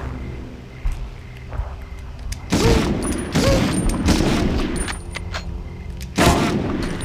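Gunfire in the Medal of Honor video game: a quiet start, then a dense volley of loud, close shots from about 2.5 to 5 seconds, and another sharp burst near 6.2 seconds.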